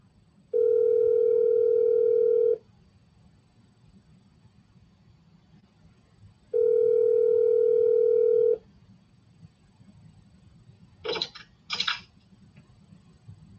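A telephone call rings out to a sales prospect: two long steady ringback tones about six seconds apart, each lasting roughly two seconds, then a couple of short bursts of handset noise over a quiet line.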